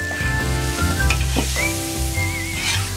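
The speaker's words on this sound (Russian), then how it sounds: "Сейчас обжарится и лук." Onions and ribs fry loudly in a kazan over a wood fire, a dense close sizzle with stirring scrapes and clanks, no voices.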